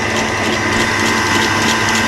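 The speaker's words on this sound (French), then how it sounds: "je vais monter cet appareil au batteur pour obtenir une belle mousse" An electric mixer whips a passion fruit mousse mixture set with gelatine, a steady loud mechanical whir with a rattling, grinding texture running without pause.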